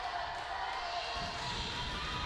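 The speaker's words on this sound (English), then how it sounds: "Not a lot of people here in the gym, but a lot of noise right now as this crowd coming alive" A small gym crowd at a high school volleyball game makes a steady, moderately loud roar of cheering and chatter that swells partway through, with light thumps underneath.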